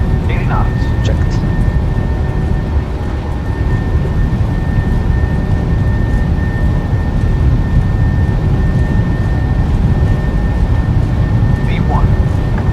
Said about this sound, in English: Set takeoff thrust.